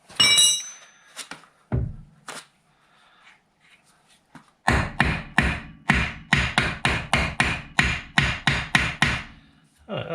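A hammer taps a ball joint into its taper on a VW Golf MK4. A few scattered knocks come first, then a rapid run of about a dozen sharp, evenly spaced metallic blows, close up.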